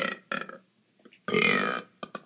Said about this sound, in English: I could burp on command.